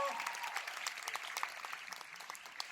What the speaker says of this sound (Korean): 우리 본명과학님께 다시 한번 큰 박수 부탁드리겠습니다.